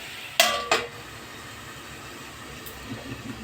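A metal spoon knocks sharply twice against a pan of chana curry with tomato and onion, then quieter scraping follows as the pan is covered, set against a low steady hum.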